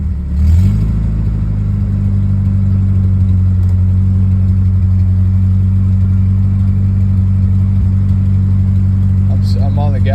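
A Nissan 240SX engine runs under throttle, its idle in need of adjustment, giving a loud, steady low rumble with a slight rough clatter that holds unbroken for about ten seconds, close to the listener.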